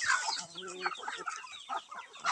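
Palawan native chickens, hens with chicks in a coop, clucking and squawking continuously at close range, several birds calling over one another with busy overlapping chatter.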